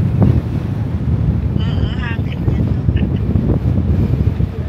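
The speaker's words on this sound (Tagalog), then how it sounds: "Kasi napakahangin." Strong wind batters the microphone with a constant loud, low rumbling roar outdoors near water. A faint voice is buried underneath.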